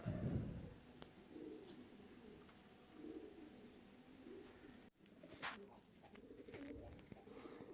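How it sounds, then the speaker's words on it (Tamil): Indian fancy ornamental pigeons cooing in soft, low repeated bursts at close range, several coos spaced through the stretch amid faint background noise. "இது இந்திய புறா"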